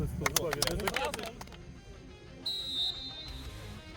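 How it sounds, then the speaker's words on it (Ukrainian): A referee's whistle ends an amateur football match in Sheptytskyi: one shrill, sustained blast follows a burst of loud shouting and clapping from the crowd. "І ось лунає свисток цього пекельного матчу"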